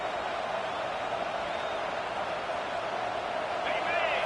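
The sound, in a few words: stadium crowd noise in College Football 26 video game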